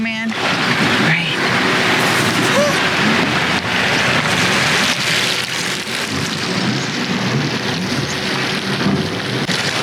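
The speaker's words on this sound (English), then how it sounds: "And the storm is right behind me." A gale-force Mistral storm near Sardinia, with heavy rain and wind roaring steadily and loud at close range for the whole stretch, no break in the noise.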